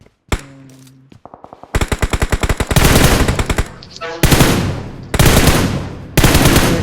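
Automatic rifle fire in a video game, with rapid bursts and sustained streams of loud close shots separated by brief pauses, with a few single reports early on.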